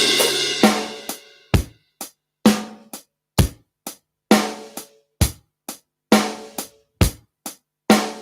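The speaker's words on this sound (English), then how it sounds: "So it's a good little drum beat, that one, and it's with that fill as well." A drum beat on a kit, bass drum and snare hits in a steady rhythm opening with a crash cymbal, played alone and close with sharp decaying strikes and a fill woven in.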